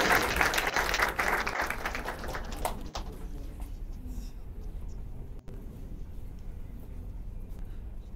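Audience applause at a college poetry and literary event, a dense burst of clapping loud at first, then thinning out into a quieter, murmuring hall.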